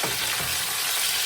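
Food frying in a pan over low heat while being stirred, a steady close sizzle with a few soft scraping stirs near the start.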